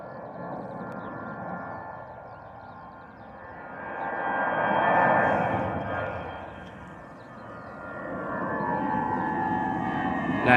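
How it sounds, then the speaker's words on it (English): Airbus A320 jet engines at takeoff power at Bristol Airport, a loud sustained roar with a high whine that swells and fades as the plane passes, then builds again, heard alone from the spotting area. "Hear those 320 engines screaming"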